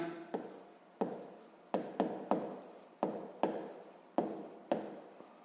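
Pen writing numbers on paper during a sixth-grade math exercise: repeated short scratchy strokes in quick bursts, close and fairly quiet, with no talking.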